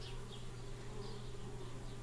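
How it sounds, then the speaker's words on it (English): Bees buzz continuously around a tree house in the Anna's Quest video game, a steady droning hum with faint swells as they drift past, with no talking. "Darn bees, trying to move into our tree house."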